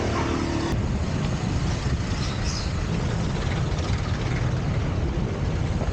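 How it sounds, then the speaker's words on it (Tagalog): Road traffic heard from inside a car in the Philippines, a constant low engine and road rumble with idling drone running steadily, close and even, without talk. "Haba ng traffic."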